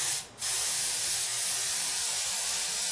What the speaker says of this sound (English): Keep your airbrush directed in towards the skull and help control your overspray